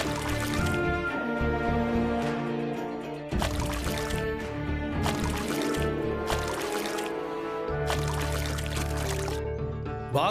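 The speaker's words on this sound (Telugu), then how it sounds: "ఇక ఈ 2 బకెట్లు తీసుకెళ్ళి ఈ చెరువులో బాగా కలపండి." Water poured from two buckets into a pond, a steady loud splashing and gushing pour running almost without break, close by, with no voices.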